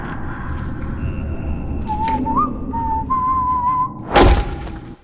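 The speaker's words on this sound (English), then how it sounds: "The executioner was whistling and swinging his axe idly" A man whistles a wavering, idle tune, alone and fairly close, ending in a sudden heavy thud near the end.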